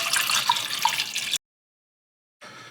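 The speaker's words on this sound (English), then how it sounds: "I'll pour some distilled water in." Distilled water poured into a film developing tank holding rinsed Fomapan film, a close splashing, trickling stream that stops abruptly, leaves a second of silence, then briefly resumes.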